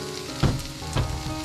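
Chicken sausage stir fry with ginger paste hits a hot pan, a steady hissing sizzle with two louder bursts of crackle as food lands, close and without talk.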